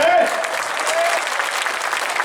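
Loud, sustained clapping from a large crowd at a BJP workers' rally in Nagda rolls on evenly, with a voice briefly audible over it at the start.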